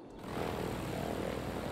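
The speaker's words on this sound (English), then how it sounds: "the aviation airplanes just sound too funny" Droning propeller aircraft noise from the city-building video game Cities Skylines, a steady buzzing hum that swells in after a brief quiet start and holds fairly faint throughout.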